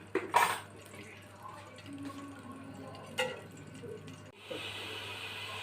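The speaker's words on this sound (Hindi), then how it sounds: "1 कप पानी डाल दिया" A cup of water poured into a pot for sweet zarda rice, heard as a short splash and clatter of the pot before a steady watery sizzle takes over, with a voice talking at points.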